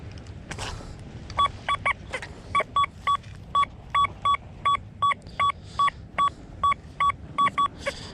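A metal detector on a beach sweeps over a bottle cap, giving a regular series of short, identical electronic beeps at an even pace above faint background noise.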